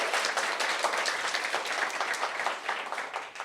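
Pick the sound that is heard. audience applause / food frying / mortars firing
audience applause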